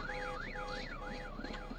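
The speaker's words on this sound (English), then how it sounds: "I want to wait till this alarm is off." A wailing electronic alarm in the game Vein rises and falls in a steady repeating sweep, loud and continuous with no voices over it.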